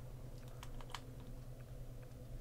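Computer keyboard keys tapped irregularly during a Dark Souls 2 gaming session, a scattering of crisp close clicks over a steady low room hum.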